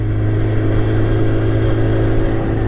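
Small motorcycle engine running at steady revs, a loud, close, continuous mechanical drone with a rough pulsing texture and no talk.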